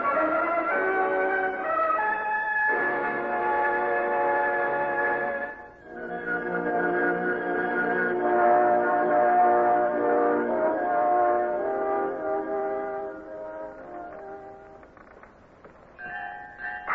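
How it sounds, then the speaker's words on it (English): Ships' bells ring together in fog in the middle of a large fleet of big ships. Many sustained, overlapping tones ring steadily with a brief dip, and no voices are heard. "Well, listen to all those bells."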